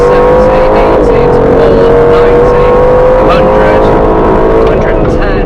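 An Aston Martin Vantage F1 Edition pulls hard through the gears on the Silverstone Stowe circuit, its loud engine note climbing steadily in pitch close up, with talk running over it.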